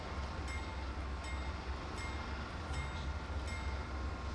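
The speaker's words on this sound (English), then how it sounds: "Let's go ahead and start throttling this bad boy up." A BNSF locomotive throttling up in Train Simulator 2020, a steady deep diesel rumble with a faint rhythmic clicking of wheels on rail, continuous and fairly close with no voices.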